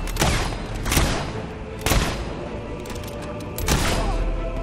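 Gunfire in the Fable 3 video game on PC, four loud booming shots spaced about a second apart over continuous battle ambience.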